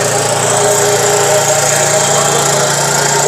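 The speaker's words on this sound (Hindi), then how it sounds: "जो कि 10 HP के इंजन के साथ 5 कल्टीवेटर आराम से चल रहे हैं।" A 10 HP engine drives five cultivators, running loud and steady with a continuous throbbing hum and mechanical rattle throughout, close to the microphone and with no talk.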